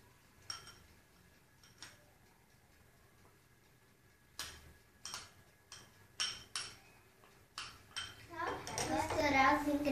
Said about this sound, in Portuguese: Misturar os ingredientes.